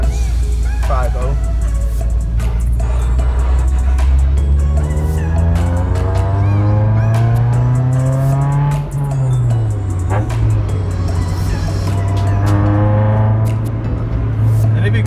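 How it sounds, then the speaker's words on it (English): A loud Honda EK or EG car engine with a throaty exhaust, louder through holes cut in the number plate, revs up and down repeatedly, close and dominant, while a person talks over it. "the car is much louder inside as well. That's also one of the reasons why I did make the holes. It increases the exhaust noise as well."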